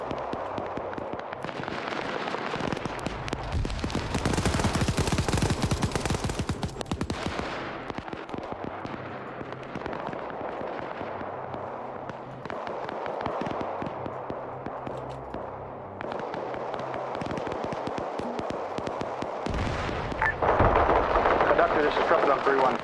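Gunfire and explosions in a military video game, dense bursts of popping shots and booms, loudest early on, with radio-style voices talking over the battle.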